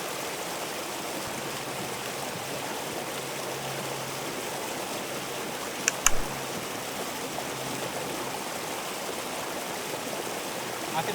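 A North Carolina waterfall pours into a river in a steady, close rushing roar that fills the whole clip, broken only by a single brief knock near the middle.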